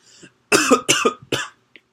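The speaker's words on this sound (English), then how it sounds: "That's a cough." A person coughs several times in quick, harsh bursts close to the microphone, ending with a short throat sound.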